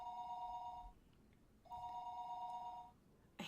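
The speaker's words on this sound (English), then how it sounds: "I hate this ring tone so much" A ringtone in the Higurashi video game rings in two sustained electronic bursts separated by a short pause, steady and clear, with a brief sharp click at the end.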